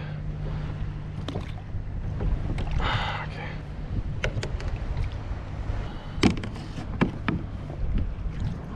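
Wind gusting over a kayak on the open ocean off Catalina Island, a steady rushing roar buffeting the microphone with occasional knocks and splashes against the hull, loud and close.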